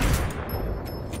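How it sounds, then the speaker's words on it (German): Gunfire in the video game Ghost Recon Wildlands, a dense continuous burst of shots and booms filling the whole moment, loud and close with no pause. "Eröffne Feuer."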